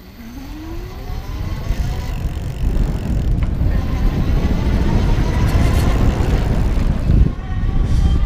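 An E-Lux Newport electric bike ridden in pedal assist level 5, with a faint rising motor whine at the start and then steady rushing wind and road noise building as it speeds up.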